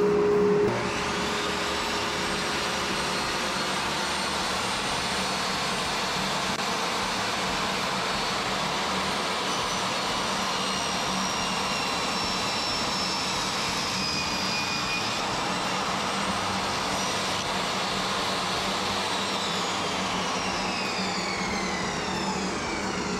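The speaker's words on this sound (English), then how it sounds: "then I'm going to turn on my dust collector" A dust collector runs steadily in a woodworking shop, a loud, continuous broadband whoosh and roar that starts abruptly and holds constant with no voices over it.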